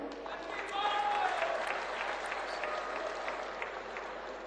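A Sikh congregation applauds together for a little girl's birthday, a dense, steady wash of clapping from a large gathering indoors, sustained throughout with a faint murmur of voices beneath it.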